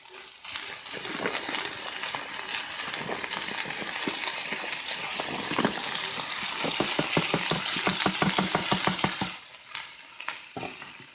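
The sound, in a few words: Korean BBQ beef and vegetables frying in pan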